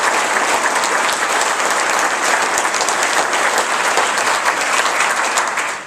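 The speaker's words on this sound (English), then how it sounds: "So please give Charles a round of applause" Banquet audience at a military officer candidate school reunion dinner giving a loud, dense round of applause, many hands clapping steadily for the whole stretch and tapering only at the very end.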